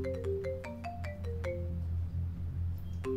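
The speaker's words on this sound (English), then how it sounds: "Your phone's ringing." A phone ringtone plays a quick run of bright melodic notes stepping downward, clear and fairly close, over a constant low hum, with another note starting again at the end.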